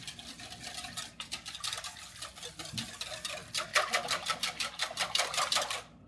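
A whisk or fork beats egg into the boortsog pastry liquid in a bowl, a fast rhythmic clicking and tapping that grows louder and quicker, close and without talk.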